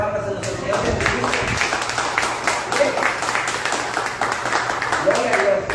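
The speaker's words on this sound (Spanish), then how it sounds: "Den una fuerte ofrenda de palmas a nuestro Señor Jesucristo." A church congregation at a Bible study claps continuously, a dense steady wash of many hands, loud and sustained throughout, with a voice faintly present beneath it.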